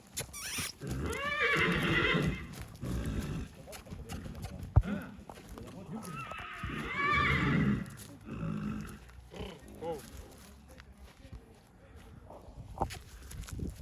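Two loud, drawn-out whinnies from a heavy draft mare, one early and one midway, with background voices and scattered rustling between them.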